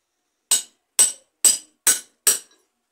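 Five sharp, separate hammer blows on a thick metal piece of an ionic detector rod, spaced about half a second apart, each a bright close clack that dies out quickly into silence.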